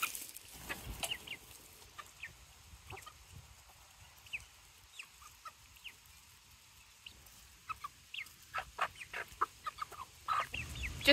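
Backyard chickens cluck and peck while eating homemade scratch treats, with soft scattered clucks and sharper calls over a quiet farmyard background, growing busier toward the end.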